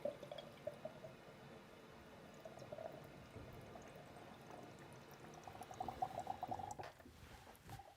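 Food-grade citric acid water trickles and splashes into an Enagic Kangen SD501 water ionizer, a faint, steady pouring sound with small drips, heard close and alone.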